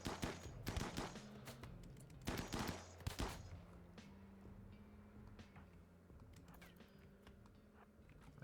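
Faint bursts of gunfire from the colony game RimWorld, rapid crackling volleys in clusters early on, then sparser scattered shots under a low background hum.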